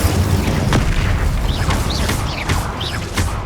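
An Incendio fire spell cast in Hogwarts Legacy, heard as dense booming bursts with whooshing flame roars and quick rising chirps layered over a loud, busy combat rumble.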